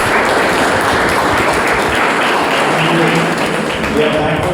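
Students in a classroom applaud together, producing a dense, sustained patter of clapping that fills the whole stretch, with talk mixed underneath.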